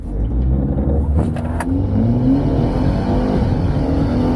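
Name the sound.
2021 BMW 228i xDrive Gran Coupe launch control acceleration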